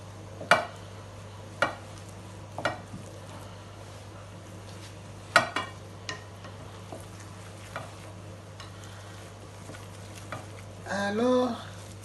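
Ground pumpkin seeds with smoked fish (mbika) stirred in a pot, with scattered sharp scrapes and knocks over a steady low hum and a brief squeak near the end.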